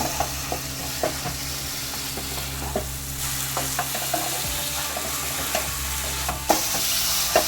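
Close, continuous frying sizzle as fried golda prawns are turned in a pan for rezala, punctuated by regular spatula scrapes and clinks against the pan, with no one speaking.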